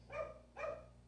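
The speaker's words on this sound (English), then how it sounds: "Sorry if you hear a dog in the background." A dog in the background gives two muffled barks about half a second apart, moderately faint against a quiet room tone.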